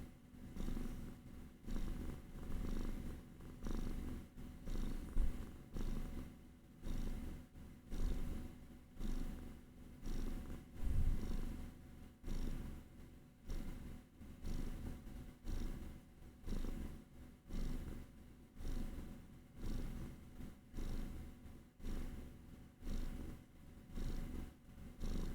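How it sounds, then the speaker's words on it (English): A cat purrs close up in a steady rhythmic cycle of soft, rumbling inhale and exhale pulses, continuing evenly and quietly for the whole stretch with no talking. "Radon does kind of just instantly purr when you look at him, so does Sakura."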